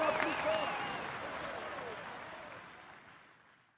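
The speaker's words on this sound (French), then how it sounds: "Allez, on l'applaudit encore." Crowd applause from the Tour de France 2018 video game, likely at a stage finish in Trie-sur-Baïse or Pau, broad and steady at first, then slowly fading out under a commentator's voice.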